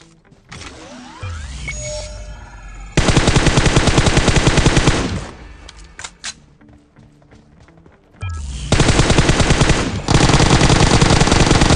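Rapid automatic gunfire in the mobile battle royale game PUBG Mobile, two long loud sustained bursts with a quieter gap of scattered shots and game effects between them.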